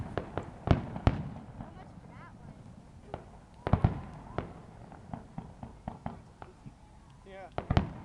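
Canada Day fireworks exploding in Orillia, a string of sharp booms and cracks at irregular intervals, some near and loud, others fainter, with crackling between them and people talking in the crowd.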